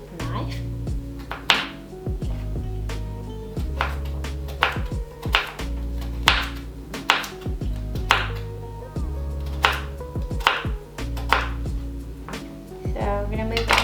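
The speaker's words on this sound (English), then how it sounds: "just peel it, and then we're going to cut it with this knife." A knife chopping carrot on a board for a vegan yaki udon stir fry, sharp evenly spaced cuts repeating roughly every second, close and clear over a low steady background hum.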